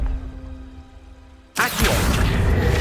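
A Confringo spell explosion in Hogwarts Legacy: after a quiet humming lead-in, a sudden loud blast bursts in and sustains as a broad roaring rumble.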